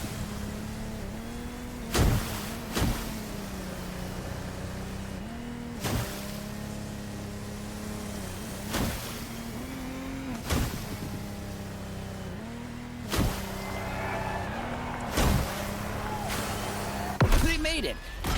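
Lamborghini Technomar speedboat engines racing in TC Motorfest, a loud continuous motor drone with shifting pitch, broken by repeated sharp slaps or gear changes every few seconds, with no talk over it.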